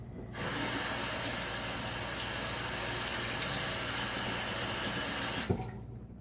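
Tap water runs steadily over a Gillette Tech Hybrid safety razor with a Nacet blade as it is rinsed in a sink, a continuous close hiss that starts and stops abruptly with a small knock near the end.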